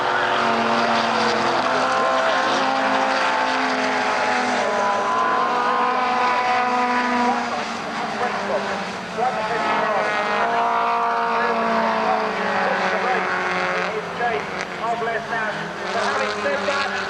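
Ford Mustang race cars lapping Donington Park circuit at a 1991 CSCC race meeting, their engines a continuous, loud, droning roar that rises and falls slightly as the cars pass, with no break throughout.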